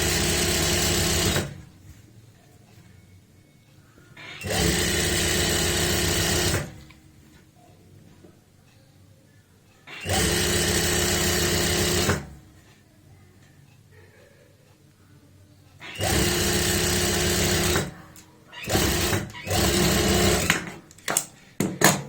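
A sewing machine stitches a seam on layered trousers in loud, close bursts of steady whirring. Several runs of a few seconds each are separated by short quiet pauses, and the final run breaks into quicker stop-start spurts.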